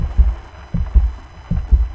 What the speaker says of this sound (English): you hear her heartbeat